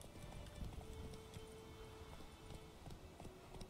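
The horse Roach gallops in The Witcher 3, its hooves a quiet, steady clip-clop rhythm under soft game ambience.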